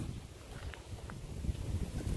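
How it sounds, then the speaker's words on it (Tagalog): Strong wind gusts roar steadily across the microphone outdoors, a dense low rumble that swells and eases throughout, with no clear spinning or rattling from the plastic object standing out. "Umiikot pa rin siya mga kaltar sa sobrang lakas ng hangin."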